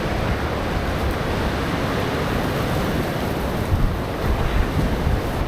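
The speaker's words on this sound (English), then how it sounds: "You might hear that it's just a little bit on the windy side." Strong wind gusts rush and buffet against the microphone in a hazel coppice woodland, a dense, loud, continuous roar with slight surges and no voices.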